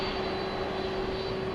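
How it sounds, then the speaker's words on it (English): A Delta Airbus A319 jet departing DFW Airport at night, its engines a loud, steady roar with a sustained whine held throughout. "off goes that Delta A319 to LAX"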